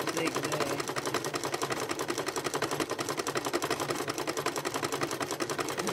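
A sewing machine runs a three-step zigzag stitch across fabric strips, a fast, even, rhythmic clatter that continues without pause at close range.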